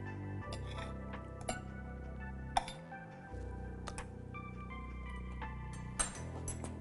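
A spoon clinks and scrapes against a plate of corn and tomato salad, a few sharp isolated taps spread over a low steady background hum, close and fairly quiet.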